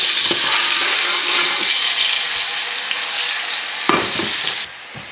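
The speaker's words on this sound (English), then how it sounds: "the next thing we're gonna do is add in our garlic" Garlic sizzles steadily in a hot pan for shrimp scampi, a loud, bright crackling fry with a few stirring scrapes and clinks, continuing without pause.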